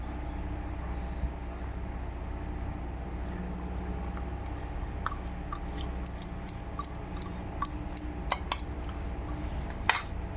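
Eggless cake batter with milk powder is whisked in a bowl over a low room hum, with soft scraping and then a cluster of sharp utensil clicks against the bowl toward the end.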